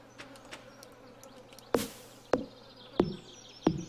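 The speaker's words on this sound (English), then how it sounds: "there's a constant kind of like audio in the background for mosquitoes" Mosquito buzzing from the Stardew Valley video game forms a faint, steady background drone, broken by several sharp, loud clicks or taps in the second half.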